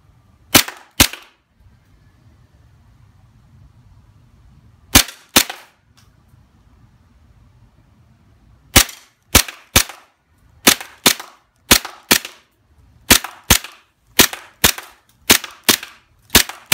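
An Umarex gas-powered USP .45 airgun fires sharp, loud, close cracks, first in spaced pairs and then in a quick string of single shots with brief quiet gaps between them.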